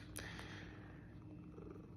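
A cat purrs softly and steadily up close, a low continuous rumble that lasts throughout with no talking over it.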